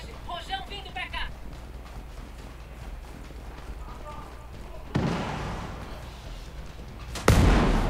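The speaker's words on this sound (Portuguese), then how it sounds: "rojão vindo pra cá." Rocket launcher fire and explosions in the video game Ghost Recon Breakpoint: two heavy booming blasts hit in sequence, the second louder, over background game noise while players talk.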